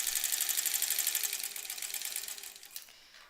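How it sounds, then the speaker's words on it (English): A sewing machine runs fast and steadily, stitching quilt fabric along a diagonal line, its close, rapid mechanical buzz continuing alone before easing off near the end. "I'm going to sew on the other side of the diagonal"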